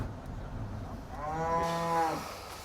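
A single drawn-out cow moo rises from a dairy farm barn, fairly faint and heard on its own over quiet background noise.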